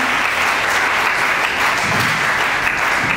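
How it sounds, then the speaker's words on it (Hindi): An audience at a commemorative discussion and award ceremony claps in a dense, steady burst of applause, loud and continuous throughout, with no speech over it. "आप लोगों के लिए तालियां अच्छी सी बजनी चाहिए"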